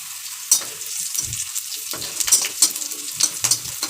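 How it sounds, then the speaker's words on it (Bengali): Cumin seeds sizzle in hot oil during tempering, a bright crackle broken by several sharp spitting bursts and stirring scrapes at irregular intervals, close and fairly loud. "একটু জিরা ফোড়ন দিয়ে দেবো।"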